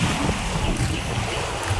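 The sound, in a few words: strong wind at the beach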